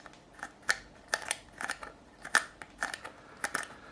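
Worn potentiometer in a 1983 Burny LP Custom guitar clicking as it is turned, a series of about nine sharp, close clicks spaced irregularly, with no talking.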